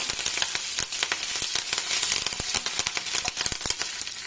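Curry leaves hit hot oil with mustard seeds for a mango pickle, giving a loud, close, dense sizzle with rapid crackling pops throughout and no voices.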